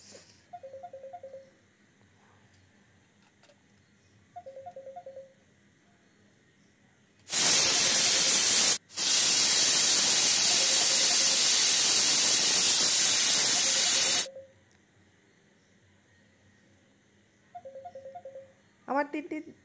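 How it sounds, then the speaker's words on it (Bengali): Pressure cooker hissing hard on the stove while mutton curry cooks, a loud continuous steam jet lasting about seven seconds with a brief break, while faint tonal beeps repeat in the background before and after. "এবার আমি ঢাকনা লাগিয়ে 3টে ছিটি হওয়ার জন্য রেখে ছেড়ে দেবো।"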